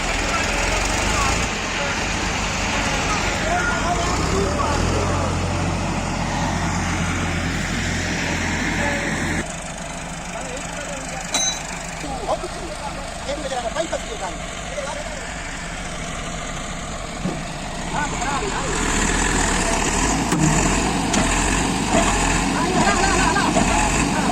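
A heavy tractor engine chugs and labors continuously while pulling, its low rumble rising and falling under strain, with people talking over it.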